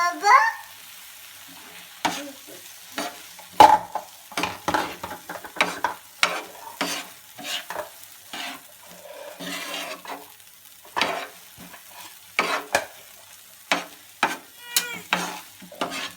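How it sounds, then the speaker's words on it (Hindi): Spoon stirring and scraping through a sizzling pan of egg curry with boiled eggs, irregular strokes of varying loudness over a soft frying hiss, with no talking. "इसको अच्छे तरीके से हम मिक्स कर लेंगे।"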